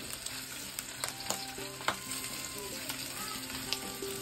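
Oyster batter frying on a wood-fired clay stove, a close, steady sizzle with crackling pops and occasional scraping stirs, heard without talk.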